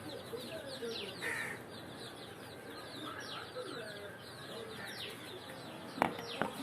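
An ailing fighting rooster gives soft, low clucks that sound faint and somewhat distant over steady background noise.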